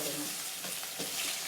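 Urad dal and onions frying in a pan of oil for a brinjal poriyal, a steady close sizzle and hiss that runs unbroken, with faint stirring scrapes mixed in.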